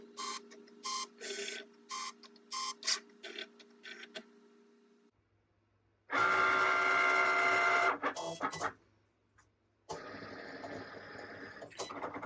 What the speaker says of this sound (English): it's going through each corner before it starts printing